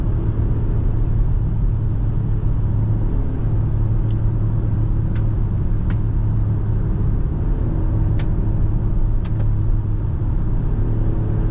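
A 2023 Infiniti QX60 Luxe AWD driven hard in sport mode gives a steady, loud engine drone and road rumble from inside the cabin, with a few faint clicks and no talking.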